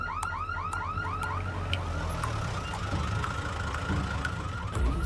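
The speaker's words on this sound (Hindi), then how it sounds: "सायरन क्यों बज रहा है?" Bank alarm siren wails in rapid repeating upward sweeps, loud and continuous alongside steady background rumble, in a scene from the comedy film Bank of Bhagyalakshmi.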